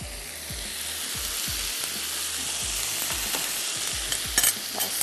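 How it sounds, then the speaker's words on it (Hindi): A pasta-roll filling mixture sautéing in a hot pan with soy sauce, ground black pepper and crushed red chili, a steady close sizzle with repeated stirring scrapes of a spoon, no talking. "थोड़ा सा सौते करते हैं"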